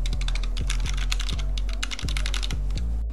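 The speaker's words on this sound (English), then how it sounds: "A little quick typing test." Fast, continuous typing on an Anne Pro 2 mechanical keyboard produces a dense, even stream of crisp key clacks, close and loud, over a low repeating thump in the background.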